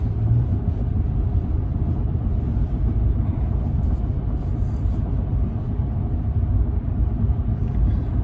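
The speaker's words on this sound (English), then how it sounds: "I'm going 70 miles an hour in four-wheel drive." A vehicle in four-wheel drive cruising at 70 mph on a road in Paradise Valley, Montana, gives a steady, loud low rumble of engine and road noise with no change across the clip.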